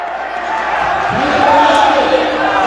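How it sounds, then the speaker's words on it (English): A crowd at a college men's basketball game between Cochise College and Yavapai roars after a slam dunk, a loud, sustained cheer that swells slightly, with an announcer's voice talking over it. "That got this crowd going."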